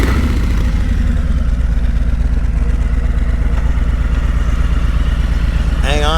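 A Harley-Davidson Revival motorcycle rumbles steadily close by as it is ridden around, its deep engine note holding constant throughout, with a brief higher squeal or voice near the end.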